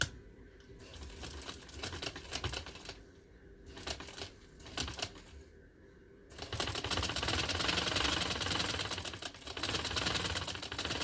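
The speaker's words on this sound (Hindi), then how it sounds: "अब मैं इसको गुलाई को सिलाई लगाने लगी हूँ इस तरह।" A sewing machine stitches the round neckline of a shirt, running in short bursts with pauses, then one long loud close run of rapid mechanical clatter.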